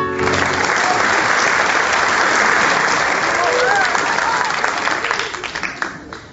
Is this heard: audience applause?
yes